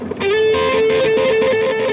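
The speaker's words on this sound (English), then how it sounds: "you get a very interesting second order harmonic distortion, yet you still have plenty of output" Electric guitar played through a Dunlop/MXR distortion pedal at a NAMM trade show booth, a sustained overdriven note with rich harmonics holding steady and loud for about two seconds, alone with no talk.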